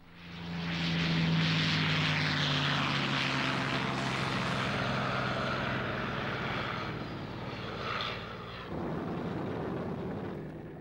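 Propeller fighter aircraft, P-51s escorting B-29 bombers, drone steadily overhead in a loud, continuous engine roar that swells and then slowly fades, with no voices.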